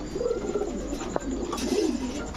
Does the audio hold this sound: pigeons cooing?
yes